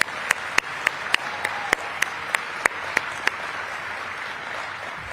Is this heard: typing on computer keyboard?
no